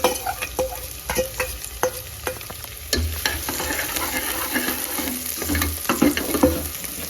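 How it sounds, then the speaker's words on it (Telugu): Thinly sliced onions fry in oil for mutton biryani, giving a continuous close sizzle broken by repeated scraping and clinking of a stirring spoon against the pan. "అదే ఆయిల్లో సన్నగా తరిగి పెట్టుకున్న ఆనియన్ వేసుకోవాలి"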